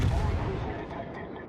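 Naval gun rounds fire in World of Warships aboard the battleship New Mexico, a single heavy booming blast that rolls off into a fading rumble.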